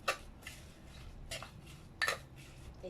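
Spoon stirring eggplant soup in a pot, a few distinct metallic clinks and scrapes spaced irregularly over a quiet background.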